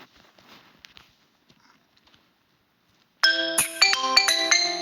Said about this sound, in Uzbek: Voy, kimdir telefon qilib qoldi.